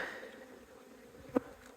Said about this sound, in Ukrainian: Сьогодні погода дає бджілкам працювати